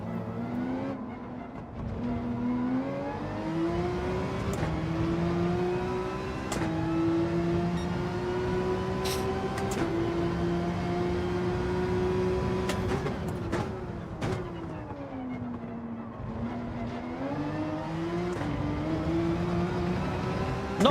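A Porsche GR.3 race car engine in Gran Turismo 7, revving steadily with rising and falling pitch through gear changes and corners, heard continuously at moderate level with short clicks between shifts.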